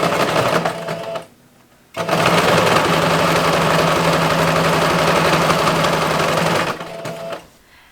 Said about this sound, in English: I'm sewing 2 rows of basting stitches so I can gather my fabric